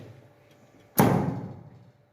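A hammer strikes a metal impactor seated in a surgical instrument set for a cervical disc system, giving one sharp metal-on-metal knock that decays quickly, close and alone.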